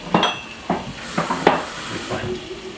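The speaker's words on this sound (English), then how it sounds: "It's got a hair, a little bit of steam going on there." A pan of cooking food with a small amount of water added, giving a faint steady hiss of steam beneath clinks of utensils against the pan and stirring, with someone talking.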